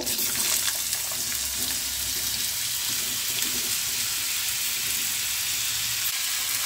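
Potato pieces go into hot oil with well-browned tempering spices for a vegetarian sesame potato fry with no onion or garlic, giving a steady, close, loud sizzle and hiss that runs unbroken throughout.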